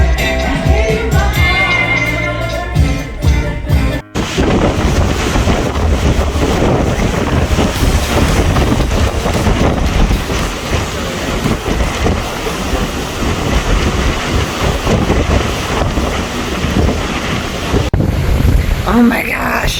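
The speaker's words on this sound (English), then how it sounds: "the wind is so warm" Strong warm tropical wind buffets the microphone at sea at midnight aboard a cruise ship during a monsoon, a continuous loud rush with water and waves underneath and a brief dip near the start.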